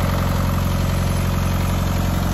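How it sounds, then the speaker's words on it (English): A tractor fitted with an 8-foot reverse PTO snowblower idles on a winter day, a steady, close, throbbing engine hum with a regular low pulse and no voices. "I got my tractor."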